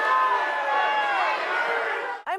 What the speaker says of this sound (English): that was the crowd at a night honoring Maxx Crosby this weekend, chanting, "Don't leave,"